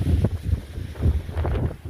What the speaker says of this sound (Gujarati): જોઈ લે મિત્રો પવન તો જો બાકી હબહબાટી બોલાવે જોરદાર